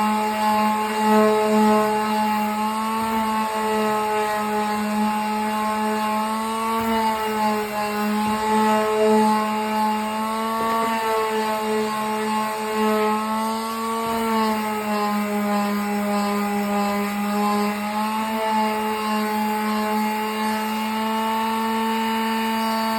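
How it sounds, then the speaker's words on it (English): Power sander working a wooden router box with 100 grit sandpaper, a steady loud whining drone with a strong tonal hum that runs continuously and alone throughout. "It's going to take you 10 or 15 minutes to sand this box, you know, really well with 100 grit."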